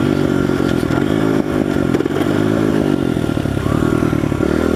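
A pit bike engine runs loud and close with a steady rattling drone, pitch dipping and recovering as gears change, alongside mechanical clatter.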